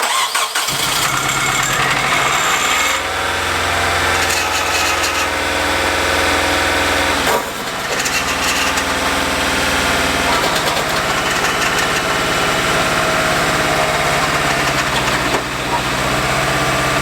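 A junkyard engine in a Nissan NX2000 rallycross car cranks, catches and settles into a loud, rough, steady idle with a knocking clatter, close up and running continuously with no talk.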